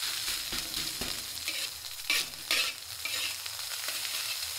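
Tomato egg fried rice being stir-fried in a hot wok, with steady sizzling and repeated scraping stir strokes, close and fairly loud, with no talking.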